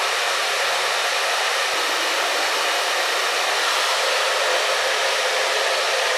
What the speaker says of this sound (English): we'll continue just drying this nice and slowly, taking our time